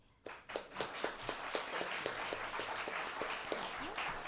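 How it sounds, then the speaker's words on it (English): An audience at a League of Women Voters candidate forum in Lee County gives a round of applause, a steady wash of many hands clapping that starts abruptly and carries on evenly at moderate distance, with little talk. "Audience, please give the candidates who are here a round of applause for taking the time to participate in this forum"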